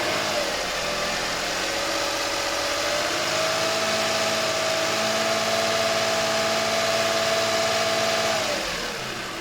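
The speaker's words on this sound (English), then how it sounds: "I get into the vehicle and then I rev it up" A car engine runs steadily through the clip, its pitch rising and holding higher as the vehicle is revved, then dropping back near the end; loud and close with a constant mechanical drone and no talking.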